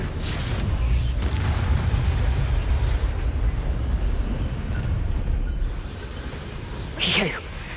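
A Confringo blasting spell erupts in Hogwarts Legacy, a loud rumbling explosion with a sustained roar under shouted combat voices, followed near the end by a sharp crackling burst.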